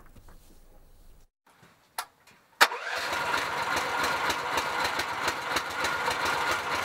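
A homemade mini-tractor engine is cranked with a brief starter burst, then catches and settles into a steady, close, rattling idle that runs on alone.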